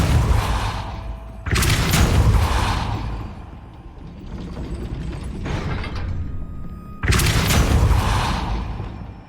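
Depulso force-push spell cast in Hogwarts Legacy, loud whooshing magical bursts with booming impacts, three strong blasts spaced a few seconds apart, no talk over them.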